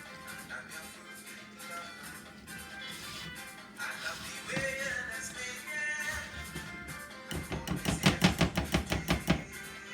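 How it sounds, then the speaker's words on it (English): A spoon stirs thick fruitcake batter in a bowl, making soft scraping at first and then quick, rhythmic thumping strokes up close, with no talking. "Let me give it one more stir."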